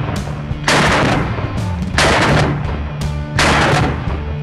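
Three loud, sharp gunshots from a big, heavy shoulder-fired gun, evenly spaced about a second and a half apart, each with a booming tail that rings out before the next.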